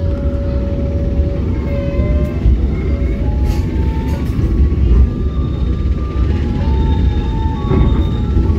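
Steady loud rumble from inside a carriage of the Siliwangi passenger train as it runs into Cianjur station, with rail clatter and faint tonal squeals over the continuous low drone.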